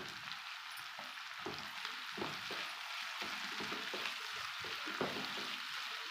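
Cabbage, carrot and three-colour capsicum sautéing in a pan for homemade noodles, a steady soft sizzle with light stirring scrapes throughout, close and fairly quiet.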